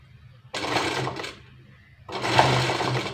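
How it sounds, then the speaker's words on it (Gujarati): Domestic sewing machine stitches a zip into a chaniya skirt in two close, loud bursts of rapid whirring, the second longer, separated by a short pause. "ને આ રીતે આપણે જરા જરા આપણો ચેનનો ભાગ દેખાય એ રીતે આપણે સિલાઈ લગાવતી જવાની છે"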